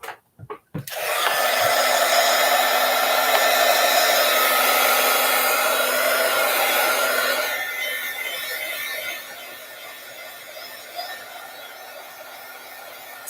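A hair dryer blasts steadily on paper craft materials, starting after a couple of brief knocks, loud and close with a constant whine, then easing slightly toward the end.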